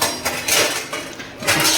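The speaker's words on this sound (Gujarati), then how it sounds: "ચાલો ડીશ ગોઠવાઈ ગઈ છે" Plates being set down and arranged in a kitchen after washing, with a few loud, close clattering knocks and ceramic clinks in quick succession, no talking.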